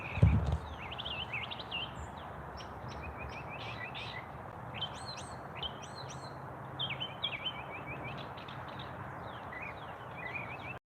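A bird mimics a yellow finch call, giving a run of quick, bright chirps and twittering notes repeated throughout over a steady outdoor background hiss, moderately close and fairly soft.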